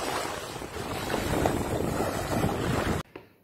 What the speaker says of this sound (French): Il y a un petit vent frais.